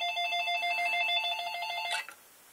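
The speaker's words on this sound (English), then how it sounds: "Oh, that was my phone ringing." A phone rings with a steady electronic trill, repeating rapidly for about two seconds before cutting off, fairly close and clear.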